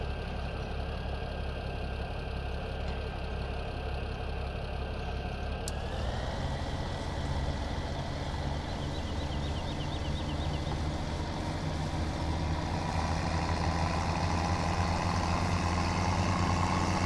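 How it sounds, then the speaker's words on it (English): Tractor engine running in Farming Simulator 17, a steady low mechanical drone with a faint whine that shifts in pitch partway through as the engine revs, continuous and moderately loud with no talking. "The only thing left to go in here is our tractor."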